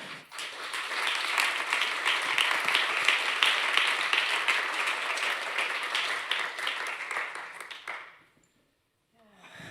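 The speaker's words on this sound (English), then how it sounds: "I ask you for a last applause." Sustained audience applause at a European rivers summit closing a session on river activism in Portugal, a dense, steady wash of many hands clapping for about eight seconds before cutting off abruptly into near silence.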